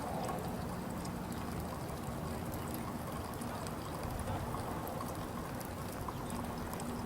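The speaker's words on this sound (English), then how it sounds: "put the rest of the water in here." Hot water poured from a rocket-stove pot into a container outdoors, a continuous quiet splashing stream running for several seconds without pause.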